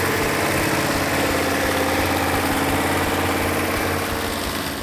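A rebuilt, numbers-matching Hemi Cuda V8 idles steadily just after start-up, a loud, close, continuous low rumble with a fast rhythmic exhaust pulse and no talking over it.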